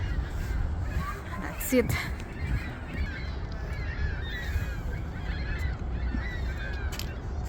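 Noisy birds, crows or geese, call and caw outdoors in the Philippines as the sky darkens, a busy chorus of squawks over a steady rumble, with a brief spoken phrase nearby.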